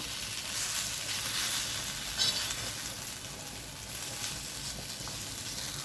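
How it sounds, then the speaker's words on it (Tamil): Okra (ladyfinger) frying slowly in a pan on a low flame until crisp gives a steady, fairly quiet crackling sizzle that runs unbroken throughout, with no voices. "சிம்மில் அப்படியே வச்சு கொஞ்சம் மொறுமொறுன்னு வறுக்கணும்"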